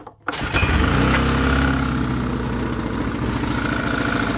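A petrol generator engine starts and runs, then keeps going with an uneven, surging throb. It sounds loud and close, with no talking over it.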